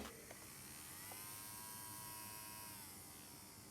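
An electric nail drill runs at low speed with a skin-safe bit while cleaning cuticles during a dry manicure, giving a steady thin high whine with slight pitch shifts, close and fairly quiet.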